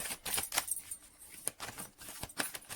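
Tarot cards being shuffled by hand make sharp, faint, close-up flicks and slaps in an uneven rhythm, with short gaps between bursts.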